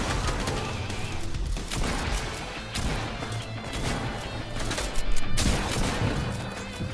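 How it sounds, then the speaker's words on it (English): Gunfire in the video game Storm Wars, a dense stretch of rapid shots, crashes and impacts playing loudly and continuously with no pauses. "A gun."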